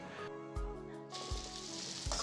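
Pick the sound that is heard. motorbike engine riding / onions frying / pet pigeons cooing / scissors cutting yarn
onions frying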